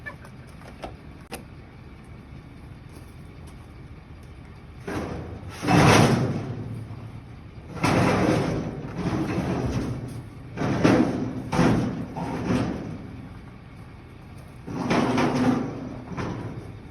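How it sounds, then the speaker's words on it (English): The heavy door of a 1960 Cadillac Coupe Deville is worked several times, giving a series of solid thumps and clunks at close range with pauses between them, and faint voices in the background. "Listen to that door"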